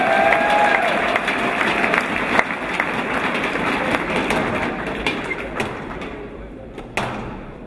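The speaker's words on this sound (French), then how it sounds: "Et pour l'équipe de France, on va applaudir Mathieu Castagnier" At the 2013 Men's World Team Squash Championships, an indoor crowd claps for a French squash player, a dense patter that gradually thins out and fades, with a few sharp single claps near the end.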